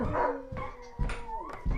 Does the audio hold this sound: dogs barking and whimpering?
yes